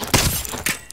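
Gunfire in Call of Duty: Modern Warfare comes as two sharp, close bursts of shots about half a second apart, followed by a fainter crack.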